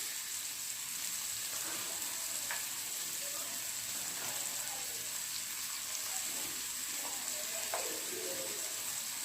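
A masala omelette of beaten egg and spices sizzles steadily in a pan, a constant frying hiss with a few soft scraping and turning sounds, close by and with no voices.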